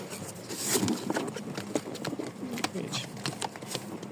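Pigeons in a loft coo in soft repeated bursts throughout, with scattered wing flaps and shuffling nearby over steady background noise; a voice speaks intermittently.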